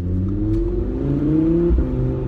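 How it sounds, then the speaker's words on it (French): A yellow Audi R8 Spyder, a rare imported car, accelerates hard nearby, its engine note climbing steadily in a smooth continuous rise with a brief shift near the end, loud and alone without talk. "J'attends que tu aies fini d'accélérer"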